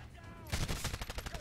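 Rapid automatic gunfire in a shooter video game breaks out after a brief lull, a dense run of close, loud rattling shots that continues to the end.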